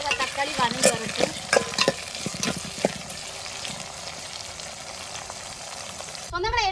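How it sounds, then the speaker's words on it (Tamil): Onion, green chilli and tomato fry in hot oil for a fish curry, with a steady sizzle under repeated scraping stirs of a spoon in the pan, close and clear. "எண்ணெயிலே இன்னும் கொஞ்சம் நேரம் வெங்காயம் பச்சை மிளகாய் தக்காளி வதங்கி வரட்டும்"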